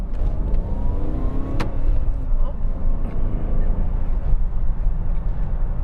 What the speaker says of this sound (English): No, this is not an electric motor, just a really nice V8.